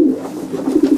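Pigeons cooing in a pigeon loft of racing pigeons, a steady, close, low murmuring coo that swells and repeats throughout, with no talk.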